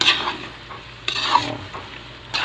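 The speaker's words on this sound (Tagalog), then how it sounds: "Ganito ako magluto ng biko." Biko, a sweet sticky rice cake, stirred and scraped in a pan while it cooks dry: repeated close scraping strokes with faint sizzling and occasional utensil knocks against the metal.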